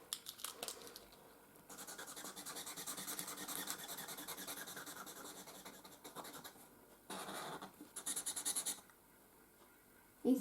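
Arteza paint pens rub and scratch across paper as one colour is written over another, heard as close, steady scratchy strokes in several sustained passes with short pauses between them, with no talking.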